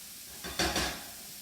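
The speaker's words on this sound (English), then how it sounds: "You can hear that delicious sizzle." Chopped onion hits a hot pan, raising a short burst of sizzling that swells and then fades within about half a second, alone in an otherwise quiet kitchen.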